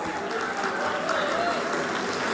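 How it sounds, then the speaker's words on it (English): An audience applauds the dignitaries on the dais at the PV Sindhu Academy foundation-stone ceremony, a dense, even wash of clapping that holds steady from start to end. "A big round of applause for all the dignitaries on the dais."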